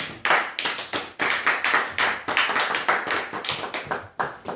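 A church congregation claps in praise during a worship service, with loud, dense applause forming a continuous, slightly rhythmic wash of many hands close by.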